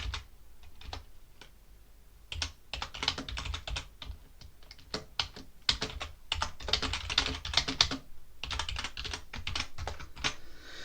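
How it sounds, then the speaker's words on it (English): Commands typed on a computer keyboard at a Linux terminal: close, crisp key clicks in quick irregular bursts with short pauses between runs. "I'm just going to type in the CD one."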